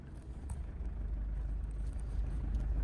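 A car engine rumbles low and steady as the clutch is released and the car moves off, a constant close drone with faint rattles.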